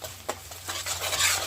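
Masala paste frying in a pan with half the paste added, stirred with a utensil: soft scraping strokes and a light sizzle, with a couple of sharper clinks against the pan near the start.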